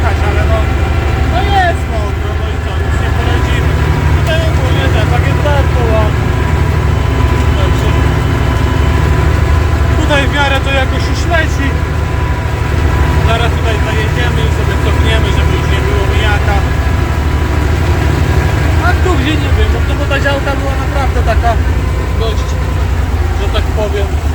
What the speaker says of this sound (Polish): Ciągnik idzie